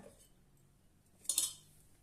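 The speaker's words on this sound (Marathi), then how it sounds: "आता आपण त्यामध्ये डाळीचा डबा आधी ठेवूया" A single metallic clunk and brief clatter as a metal dal container is set down inside a pressure cooker, otherwise quiet.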